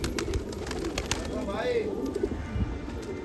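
Racing pigeons coo softly in a dense chorus on a rooftop loft, their low warbling calls blending with rustling and faint background chatter.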